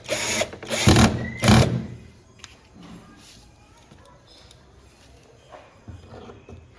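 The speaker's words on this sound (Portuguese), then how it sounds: "A gente vai parafusar." Power drill or screwdriver driving flat-headed screws into a 42-inch TV panel with two niches during assembly, three short loud bursts at the start followed by quieter handling noises and faint taps.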